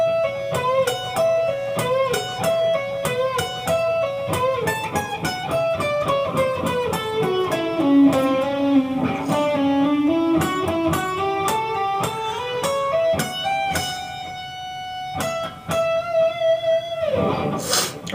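An electric guitar plays a solo slowly and alone, picking clear single notes in steady runs that descend, climb back up and settle on a long sustained note.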